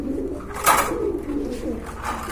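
Active pet pigeons at a sale coo in close, fairly loud rolling calls that repeat through the stretch, with one sharp louder burst early on.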